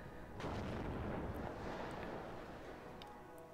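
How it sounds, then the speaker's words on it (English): Distant rumbling artillery counter-battery fire in the WARNO video game, a deep booming roll that swells and fades with a few faint crackles, and no voices. "Artillery is counter-batterying."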